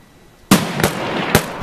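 Three or four sharp gunshots in the Escape from Tarkov video game, loud close cracks spaced irregularly over under two seconds, following a brief quiet moment, with no talk.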